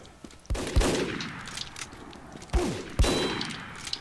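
Sniper rifle shots in Team Fortress 2 crack out in sharp bursts, four of them spaced over a few seconds, each one loud and close with a ringing tail.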